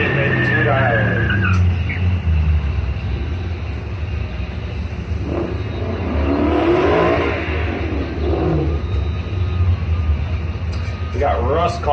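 Drag race launch with a Ford truck in the left lane against a white Mustang in the right, engines revving and roaring loud and steady throughout, with announcer talk over a public address and crowd murmur.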